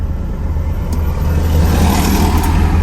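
2006 Volkswagen Golf GTI Mk5 engine running, a steady low rumbling idle that swells slightly louder toward the end, heard close up with no talking.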